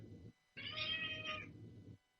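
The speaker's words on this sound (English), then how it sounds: "you may hear a lot of kitty noises in the background." A cat in heat lets out a single drawn-out, loud, wavering meow, with a low rumbling cry before it and no talk.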